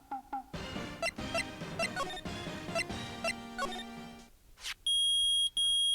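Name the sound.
metal detectors beeping in Phoenix Wright: Ace Attorney video game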